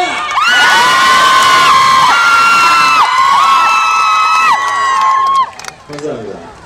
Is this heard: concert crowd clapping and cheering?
yes